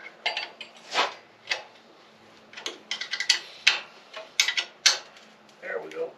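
A wrench works a bolt on a lawn mower with a series of sharp metallic clinks and ratchety ticks in irregular bursts, close by, with a voice briefly heard.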